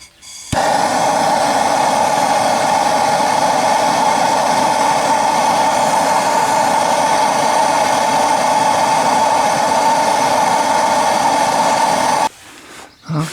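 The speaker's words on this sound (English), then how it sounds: "now I'm going to try a little heat on the bolt." A torch applying heat to a seized bolt on a C5 Corvette during harmonic balancer and front seal replacement gives a loud, steady roar that holds for about twelve seconds and then cuts off.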